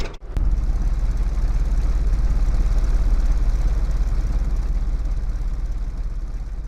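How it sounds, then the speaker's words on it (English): Deep, steady exhaust rumble from a customized car fitted with Gibson headers and exhaust in the racing game L.A. Rush, a loud, close idle that keeps up an even throb from start to finish. "the Gibson headers and exhaust gives it that deep down rumbling sound, so they can hear you coming 5 blocks away"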